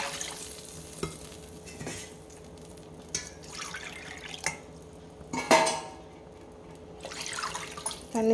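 Water is poured into a cooking pan for rava pongal, giving soft intermittent splashes and drips with a few light clinks of utensils against the pan. There is no talking.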